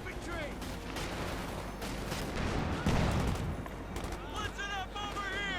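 Machine gun fire and bursts of battle noise from the real-time strategy game Company of Heroes 2 crackle in rapid volleys under a commentator's voice, with a heavier thump partway through.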